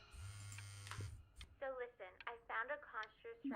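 Telephone ringing in the video game Before Your Eyes: a low buzzing ring tone of about a second, then a voice talking over the remaining moments.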